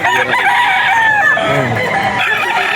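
Several roosters crow and cluck close by in Bocaue, Bulacan, with overlapping calls forming a loud, busy chorus.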